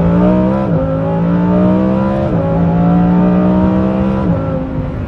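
A Lamborghini Huracan Performante with an Inconel exhaust and stock tune drones loudly and steadily, its pitch climbing then dipping sharply three times as the engine revs through shifts.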